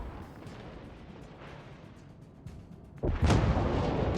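Heavy battleship guns in a naval warship video game firing from a destroyer's view; a quiet rumbling stretch gives way to a loud booming salvo near the end, with low rolling aftermath.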